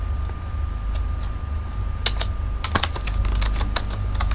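Quick bursts of keystrokes on a computer keyboard, scattered at first and then a denser run of taps, close and crisp over a low steady room hum.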